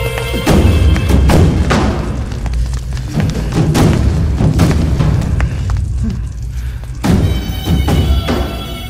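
Heavy booming thuds and blasts of an explosion in a Bhojpuri film roll through a loud, dense rumble, with several sharp impacts spaced irregularly across the stretch.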